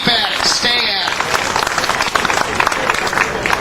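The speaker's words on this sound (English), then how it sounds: "That's worth a round of applause." Audience applause at a political lobby day event, dense and loud from the start, then settling into a steady, even patter of many hands clapping with no speech over it.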